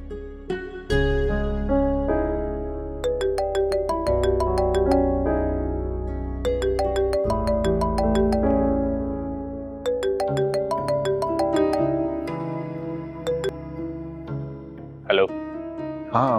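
A phone rings for an incoming call, a melodic ringtone tune playing in repeating phrases, loud and clear for most of the span without talk over it.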